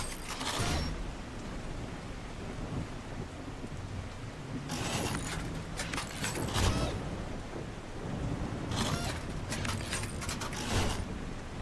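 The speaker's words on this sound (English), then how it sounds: "Especially with a storm coming in." Thunderstorm in the video game The Last Caretaker, rumbling thunder bursts and crackling rain swelling in three waves over a constant creaking, mechanical background drone.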